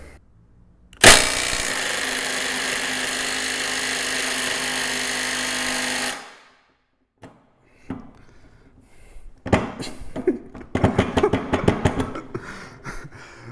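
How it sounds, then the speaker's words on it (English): A DeWalt cordless impact wrench working a 500 Newton-meter nut: a loud, sustained mechanical whir runs about five seconds, then stops, followed by a pause and scattered clanks, rattles and handling knocks. "We're going to attack this 500 Newton meter nut over here."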